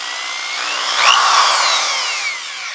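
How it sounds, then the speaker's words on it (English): DeWALT 3/8-inch corded variable-speed drill running alone, a high whirring whine that rises and falls in pitch as the trigger speed changes, close and fairly loud. "it's quite a powerful drill"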